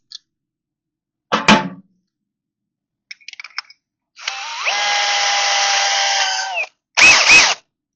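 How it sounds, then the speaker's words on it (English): A power drill bores a 5/8-inch hole in metal on a 1957 Chevy battery box, with a short burst, scattered clicks, then a sustained whining cut of about two and a half seconds, and a final loud burst. "I know it's going to be fun drilling that 5/8"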